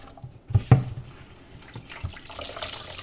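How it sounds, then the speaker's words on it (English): Water poured by hand into freshly grated coconut while it is squeezed, giving a brief faint splash and trickle with a couple of soft sloshes, quiet and close, with no talking over it. "I'm going to add a little more water."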